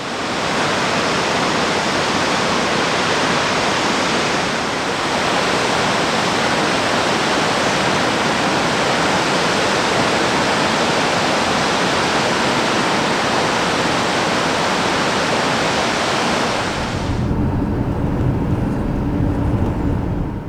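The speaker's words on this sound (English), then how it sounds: "And this one here is called Undyne Falls," Undine Falls in Yellowstone pours as a steady, loud, broadband roar of falling water for about seventeen seconds, then drops to a softer, more distant rush.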